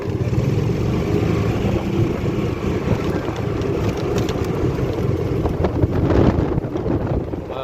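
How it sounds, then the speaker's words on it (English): Steady wind rushes and buffets the microphone outdoors on a breezy day in Belize, with a continuous, fairly loud roar that swells briefly near the end; no one speaks. "Wow, it's very breezy."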